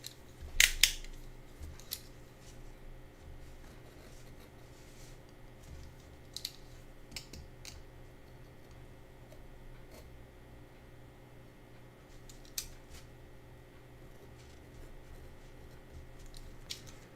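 Scissors snipping around painted shapes in watercolor paper, a quick burst of cuts near the start followed by faint, sparse clicks and snips in a quiet room.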